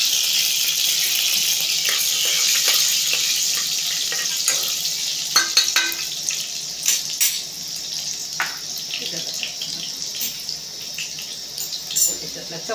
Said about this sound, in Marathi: थोडीशी तेलातच कोथिंबीर टाकायची।